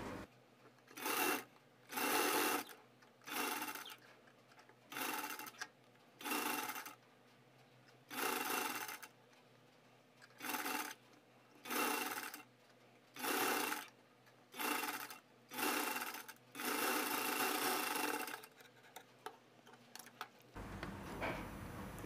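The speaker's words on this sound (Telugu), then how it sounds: "ఇప్పుడు ఇది స్టిచ్చింగ్ చేసేసుకుందాం." A sewing machine stitches a kurti neckline in short, close bursts of whirring run, stopping and starting about a dozen times with brief pauses between, and no voices heard.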